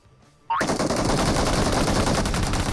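Automatic gunfire from a new weapon in the mobile battle-royale game PUBG Mobile erupts after a brief quiet moment, then rattles on loud and continuous as a dense burst of rapid shots.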